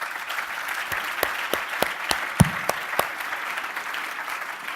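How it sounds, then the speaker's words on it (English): An audience at a panel debate on co-working office spaces claps for a speaker, with moderate steady applause and a few sharper individual claps standing out near the front. "Let's give Ryan first a round of applause."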